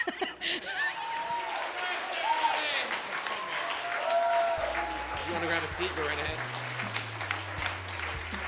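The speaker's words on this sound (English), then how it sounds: "please keep clapping for her" Applause from a comedy club audience, with scattered chuckles, fills most of the stretch while someone talks over it into a microphone and low musical tones rise near the end.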